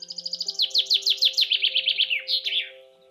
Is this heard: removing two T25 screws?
no